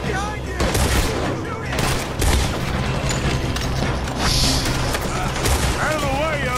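Dense, continuous gunfire from a Red Dead video game battle against an attacking horde, with rapid overlapping shots and booms filling the mix under shouted character dialogue.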